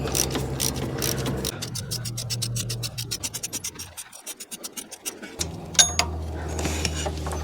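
A ratchet wrench loosening the nut on the AC line bracket of a 1999 Ford Ranger 3.0L, fast close clicking of the pawl in back-and-forth strokes with metallic scraping and a brief pause, no speech.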